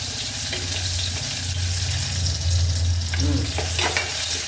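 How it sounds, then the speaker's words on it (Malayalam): Small onions (shallots) sizzle loudly as they are stirred and sautéed in a pan, a steady frying hiss with occasional scraping stirs throughout. "ചെറിയ ഉള്ളി ഇട്ടിട്ട് ഒരു രണ്ട് മൂന്ന് മിനിറ്റ് ഇടയ്ക്കിടയ്ക്ക് ഒന്ന് ഇളക്കി വഴറ്റി കൊടുത്താൽ"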